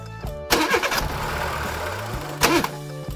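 An animated bus engine sputters as it tries to start and then stalls, with a loud cranking burst, a rough uneven running stretch, and a second sputtering burst near the end before it dies.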